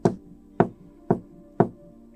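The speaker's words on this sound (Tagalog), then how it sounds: "Aba, may kumakatok." Four evenly spaced knocks on a door, close and fairly loud, each a single sharp rap with a short resonant ring.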